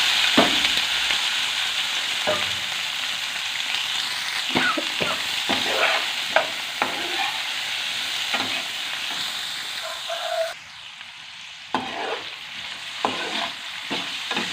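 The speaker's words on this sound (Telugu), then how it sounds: "నెక్స్ట్ అదే ఆయిల్లో మనం ముందుగానే కట్ చేసి పెట్టుకున్న దొండకాయ ముక్కలు వేసుకొని ఫ్రై చేసుకున్నాం." Cut ivy gourd (tindora) pieces fry in hot oil, giving a steady close sizzle broken by scraping stirs from a spatula, with a brief quieter dip partway through and no talking.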